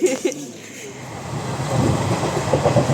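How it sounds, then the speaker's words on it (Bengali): A train rolling along rails, a steady rumbling clatter that builds slightly, heard from inside the carriage. "তো বন্ধুরা আমরা ট্রেনে উঠে পড়েছি অনেকক্ষণ আগে"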